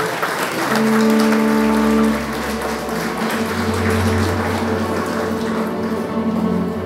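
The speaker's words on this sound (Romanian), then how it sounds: "aplaudați-i" Audience applause at a Christmas show in Dărmănești, continuous clapping throughout with held musical tones playing beneath it.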